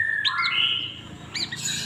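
Green leafbird (cucak hijau) calls sound in two quick bursts of bright, whistled chirps, close and clear, with a short pause between them.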